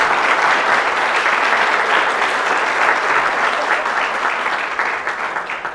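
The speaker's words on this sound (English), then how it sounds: "Let's give our 4 honorees, if we may, one last big round of applause" Sustained, dense applause from an audience honoring four award recipients at a chamber of commerce achievement awards event, steady and loud throughout with a slight fade near the end.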